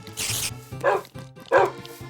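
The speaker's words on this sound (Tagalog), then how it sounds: "Oh, wolves! Ang daming wolves!" Three short wolf barks from Minecraft, one after another, close and clear, with a soft background hum.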